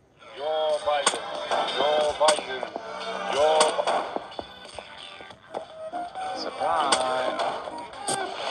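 Rapid gunshots and sharp blasts crack repeatedly in the Nextbots video game, close and punchy, mixed with game effects while someone talks over the action.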